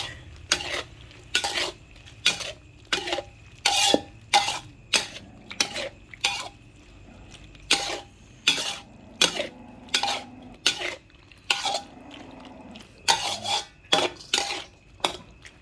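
A utensil scrapes and clatters against a pan in repeated rhythmic strokes while eggplant and pork are stirred, with a soft sizzle underneath.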